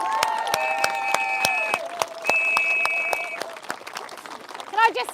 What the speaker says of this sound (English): So if we can have a big cheer.